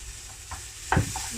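Chopped shallots and leek frying in a pan, a soft continuous sizzle with a few stirring scrapes and one louder clatter near the end, no talking.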